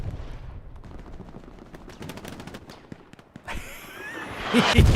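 An artillery round explodes in a WWII shooter video game at Carentan, with a sudden broadband blast at about 3.5 seconds rising into a loud, rumbling roar, after steady scattered gunfire crackles in the background.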